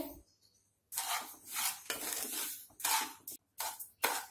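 Dry barnyard millet (bhagar) being stirred and roasted in a pan over a low flame, making bursts of gritty scraping and rustling with short pauses between strokes, close and fairly quiet, with no talking.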